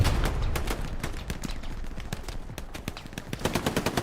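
A Panzer IV tank in the Hell Let Loose video game fires rapid machine-gun bursts to suppress infantry, with close, sharp repeated shots in quick rhythm amid distant gunfire.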